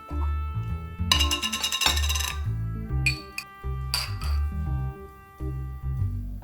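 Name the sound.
jam jar being cracked open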